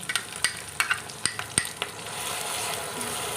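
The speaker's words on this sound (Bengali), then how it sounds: "এবারে কিন্তু পোস্ত আর সর্ষের পেস্টটাকে আমি এর মধ্যে দিয়ে দেবো" Poppy seed and mustard paste frying with garlic for a fish curry, a close steady sizzle punctuated by several sharp stirring scrapes of a utensil against the pan, settling into continuous hissing.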